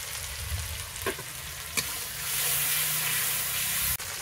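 Egg curry masala with turmeric and salt cooking down in a pan with a splash of water, a steady close sizzle and hiss with a couple of sharp stirring clinks, no talking.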